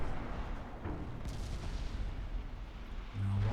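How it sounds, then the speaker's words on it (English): Naval guns fire in the Ultimate Admiral Dreadnoughts warship game, producing rumbling booms and rolling blasts that overlap in a dense, continuous low roar. "Lock on. Aggressive fire authorized."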